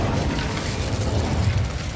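In the Hogwarts Legacy video game, the Incendio fire spell releases a dense, roaring burst of flame that holds at a steady, rumbling loudness for its whole length.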